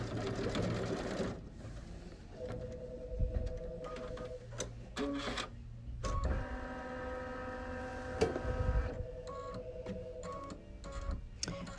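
An embroidery machine stitches a tack line on fabric for face masks over cutaway mesh stabilizer, giving a close mechanical whir with rapid ticking needle strokes and a tonal motor hum that rises and pauses in stretches.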